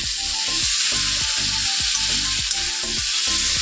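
Mutton sizzling and frying in a pan while being stirred, with a steady close hiss and a repeated rhythmic scraping of the spoon through the meat, and no voices.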